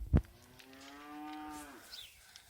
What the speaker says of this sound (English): The cows are over there.